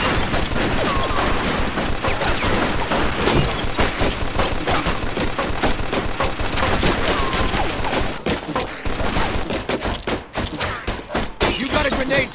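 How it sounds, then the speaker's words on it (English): Dense, continuous gunfire from the Mafia 2 video game, with bursts of rapid shots, shattering and crashing layered throughout, loud and sustained with only brief dips. "Looks like we found the machine gun!"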